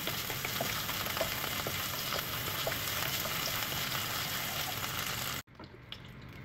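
Chinese-style fried rice frying in a pan, a dense continuous sizzle with stirring scrapes, steady and close, cut off abruptly near the end into a quieter room.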